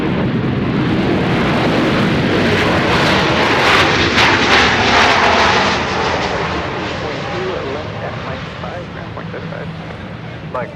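A Boeing 737-800 jet roars loudly at Dallas Love Field, a broad engine rumble that swells and then slowly fades as it moves away, with a radio voice briefly audible.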